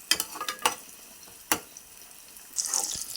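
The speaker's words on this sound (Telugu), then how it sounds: "ఇలా ఉల్లిపాయ ముక్కలు బాగా వేయించుకోవాలి. నూనెలో ఇలా వేయించుకోవాలి." Onion pieces fry in hot oil and are stirred, with quick scraping strokes, one sharp knock, and a brighter sizzling hiss rising near the end.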